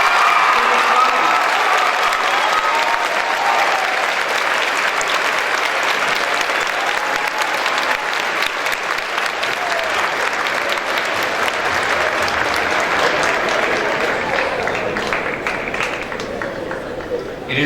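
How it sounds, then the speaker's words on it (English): Sustained, dense applause from an audience at a school moving-up assembly, loud and steady for the whole stretch, with clapping fading slightly near the end. "Can we get a big round of applause for our 22?"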